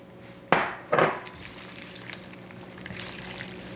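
Green onion, carrots and yellow onion stirred through a sauce in a bowl, with two sharp utensil knocks against the bowl followed by softer, wet mixing sounds.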